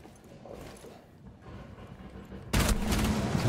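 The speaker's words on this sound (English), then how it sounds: "Shots." Rapid gunfire from a Rainbow Six Siege match: a loud, dense burst of shots breaks in suddenly near the end, after a stretch of quieter in-game footsteps and ambient noise.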